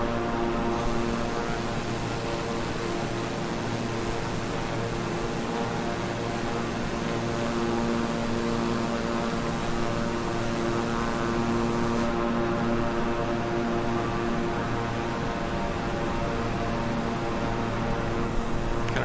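Twin turboprop engines of a King Air 350i on a night flight in Microsoft Flight Simulator, a steady, even drone with layered tonal hum and hiss, constant and unbroken, with no one talking.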